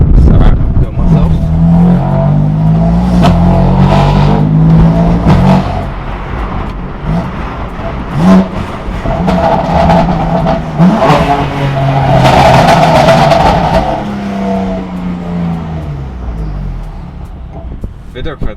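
A BMW M4 with a straight-pipe exhaust revs loudly and close by. Rough, crackling blips rise and fall across the clip, and a few sharp throttle bursts break through the steady engine drone.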